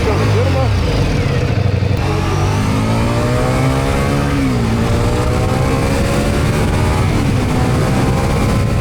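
A 2026 Ducati XDiavel V4 power cruiser motorcycle engine ridden in sport mode on an open road, roaring loud and close with revs that repeatedly climb and dip throughout.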